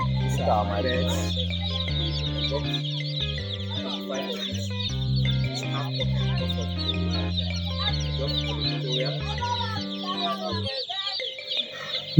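Young chickens, a batch of 25 birds on a poultry farm, cluck and cheep steadily in a dense, continuous chorus close by, with a looping musical backing running underneath and no talking over it.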